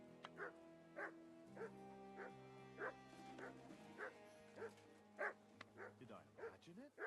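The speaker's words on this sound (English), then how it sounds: "Sit and bark." A dog in Kingdom Come Deliverance 2 barks about a dozen times in a steady rhythm, loud and close, over a low droning game backdrop.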